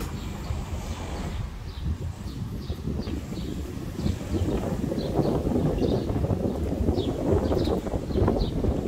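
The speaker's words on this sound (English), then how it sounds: "It's getting a bit windy now." Strong wind buffets the microphone in gusty, rumbling bursts at Praia da Rocha beach in the Algarve, Portugal, with faint bird chirps in the background.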